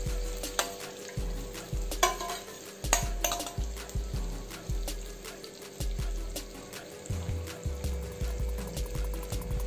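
Egg mixture for a Spanish omelette sizzles and fries in a pan, with a continuous crackle broken by spoon scrapes and clinks against the pan.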